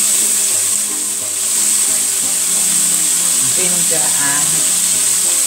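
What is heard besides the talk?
chopped ginger frying in hot coconut oil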